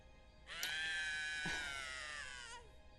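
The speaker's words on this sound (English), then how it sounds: "It sounded like a woman screaming for help." A woman screams for help in a Titanic hidden object video game: one sustained, high, wavering cry of about two seconds, clear and alone over a faint background.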